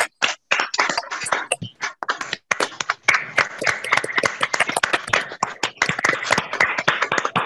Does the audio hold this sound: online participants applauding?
yes